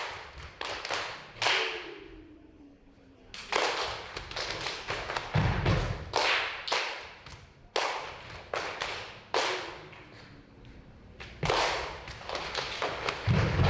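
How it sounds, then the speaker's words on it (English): A group performs body percussion in sync, slapping, stamping and clapping together in rapid repeated bursts of sharp thuds and taps that pause briefly and resume, loud and close with no talking. "constantly playing music with her body"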